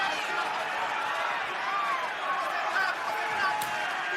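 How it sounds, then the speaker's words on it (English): Arena crowd at a fight in Melbourne roaring and chanting Silva, a dense, sustained wash of voices heard from within the venue, loud and unbroken throughout. "I believe I'm hearing Silva chants here in Melbourne."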